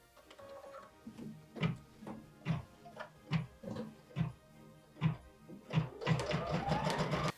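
An embroidery machine stitches a mint-thread tack-down line on a Christmas schoolhouse mini design, steady rhythmic thumping pulses at close range that speed up into a denser, louder whirring run at the end.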